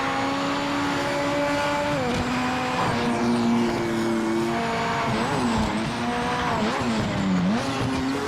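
A race car lapping a track in the video game Project Motor Racing, its engine whining high and shifting pitch through gear changes and corners, with tyre squeal, loud and continuous, no talking.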